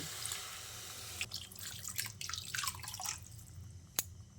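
Water poured from a small bowl into a cooking pan of spiced potatoes, a faint trickling splash close by, with a sharp drip near the end.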